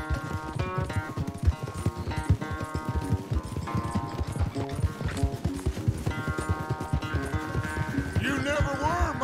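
Horse hooves galloping in the video game Red Dead Redemption II, a steady fast clip-clop rhythm heard up close and loud, with game music and other sounds mixed in.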